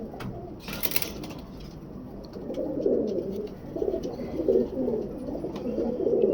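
Pigeons in a loft, including a large male, coo in soft repeated low murmurs that build and continue steadily throughout, with a brief flutter-like burst near the start and background noise.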